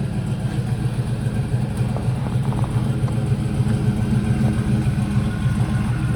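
A 2019 Chevrolet Silverado V8 fitted with a smaller GM Performance cam idles steadily, with a low, even rumble and faint lopey pulsing that runs the whole time, close and fairly loud with no talking.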